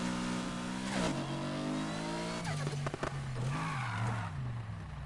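A car engine revs in the video game Need for Speed Heat, climbing and dropping in pitch through gear shifts as a loud, steady whine with no voices over it.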